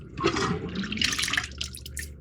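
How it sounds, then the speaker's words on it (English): Plastic model kit parts for a 1:48 scale Panavia Tornado jet being washed in hot soapy water, giving irregular splashes, drips and sloshing bursts close to the microphone, with no talk. "We got everything washed. Hot soapy water."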